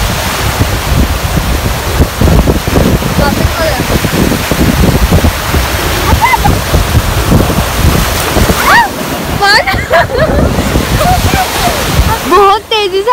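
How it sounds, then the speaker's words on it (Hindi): Sea waves rush quickly toward the shore in a loud, roaring wash, with heavy wind buffeting the microphone. Voices talk over the surf near the end. "बहुत तेजी से आगे आते जा रहा पानी"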